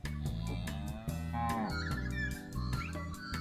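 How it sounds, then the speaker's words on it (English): A cow moos near a riverside campsite, several deep, drawn-out lowing calls in a row, loud and close, with nothing else competing. "See if we get Mrs. Cow to go back over the river"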